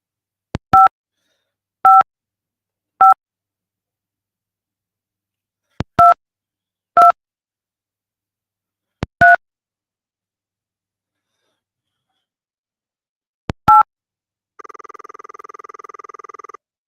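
Touch-tone dialing on a fridge phone in the Cosmic Osmo game: seven short, loud beeps in uneven clusters separated by silence, then a steady ringing tone at the end.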